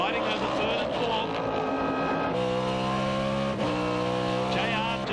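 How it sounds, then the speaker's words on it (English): Race cars battling on track in a Tranzam race, loud engines roaring with rising and falling pitch as cars pass close, under excited commentary. "Crescentini in the Vallejo car, fighting over third and fourth."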